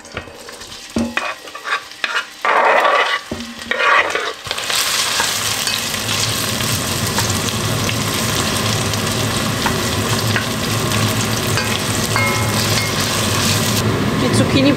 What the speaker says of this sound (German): Die braten wir auch ein bisschen an.